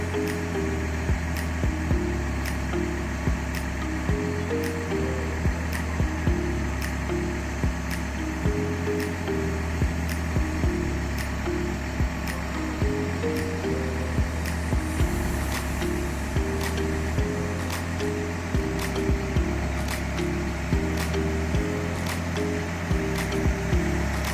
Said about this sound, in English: On the machine we have 4 hydraulic cylinders that folded it